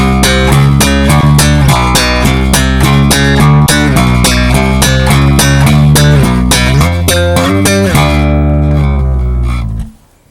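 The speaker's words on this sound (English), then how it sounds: "the thumb and the index finger, then you have a combination of the plucking and also a combination of the thumping" A bass guitar is played by combining thumb thumping with index-finger plucking, giving a loud, fast, continuous run of sharp percussive notes and pops that rings out and stops abruptly at the end.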